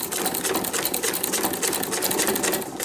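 Sewing machine stitching a straight line on a Christmas journal cover, a steady, fast mechanical whirring and rapid needle clatter running continuously at close range with no talk.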